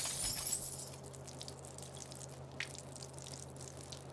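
Chemical bottles break on the floor in South Park: The Fractured But Whole, a quiet glassy shatter at the start followed by faint scattered tinkles and drips under a low steady hum, no talk.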